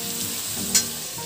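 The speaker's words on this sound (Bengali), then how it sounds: "এই যে আলু ভাজা হচ্ছে" Potatoes fry in a pan with a steady, close sizzle, marked by one brief sharper crackle partway through and no talking.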